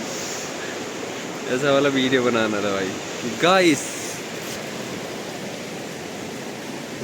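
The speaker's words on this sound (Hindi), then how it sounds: "इस पानी के बहाव से पता चल रहा है कि यो कितना तगड़ा है।" The strong current of a river at the Sangam rushes as a constant broadband roar, with someone talking over it for a few seconds before the water is heard alone.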